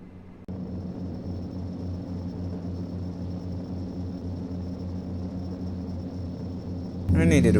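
Steady droning hum of Dash 8 Q400 turboprop engines in a Prepar3D flight simulator climb, a constant loud rumble with tonal whine that starts abruptly and surges louder near the end.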